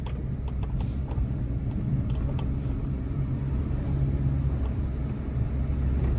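A car travels on a highway near Lucknow, its engine and road noise forming a loud, continuous low rumble that holds steady throughout, with no voices.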